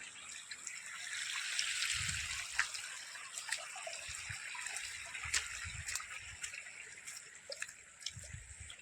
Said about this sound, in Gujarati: આપણા ખેતરમાંથી પાણી બહાર નીકળી રહ્યું છે.